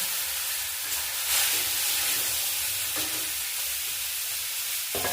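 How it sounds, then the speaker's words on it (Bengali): Broad beans frying in a pan of hot oil tempered with cumin, mustard seeds and dried chilli, a continuous close sizzle with a few soft stirring scrapes, no voices. "এবার সিমটা একটু ভেজে নেব।"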